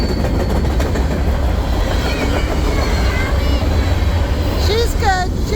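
A long train hauled by several engines rumbles past close by in a continuous loud roll of wheels on rails, with squealing wheel tones rising near the end.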